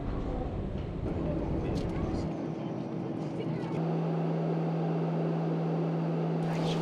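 A small plane engine hums steadily, its drone shifting to a lower, stronger tone partway through, heard up close, in New Zealand.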